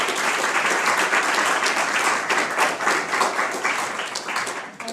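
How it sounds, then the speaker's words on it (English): Audience applause welcoming a speaker at a university human rights and education event, dense sustained clapping from a crowd, loud and continuous, fading slightly at the end. "So please, we'll welcome with an applause Mr. Dorje."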